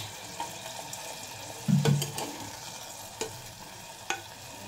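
Water goes into a pan of frying potato and eggplant with lentil dumplings, a brief low splash and bubbling burst over a soft sizzle, followed by a few spatula clicks.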